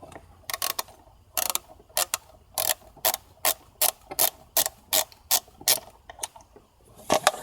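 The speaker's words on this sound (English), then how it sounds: "Get our ratchet in there." Ratchet wrench clicking in short bursts as it loosens a bolt on a VW 2.0T TSI intake, roughly a dozen crisp, close, evenly spaced ratcheting strokes with brief pauses between them.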